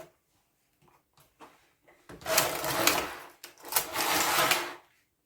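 A Passap Duomatic 80 knitting machine runs two rows: quiet clicks first, then two loud, broadband carriage passes of about a second each, separated by a short pause.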